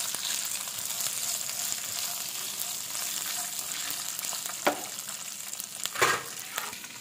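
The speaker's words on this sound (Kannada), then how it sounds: "ಸ್ವಲ್ಪ ಫ್ರೈ ಆಗಲಿದು." Garlic and green chillies frying in a pan for cucumber chutney, a steady close hiss of sizzling oil with a couple of louder stirring scrapes near the end, no voice.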